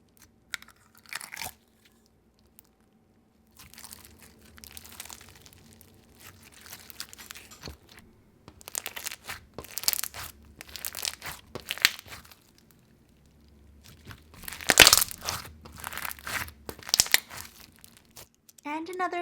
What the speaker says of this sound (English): This sugar slime makes wonderful crunches and bubble pops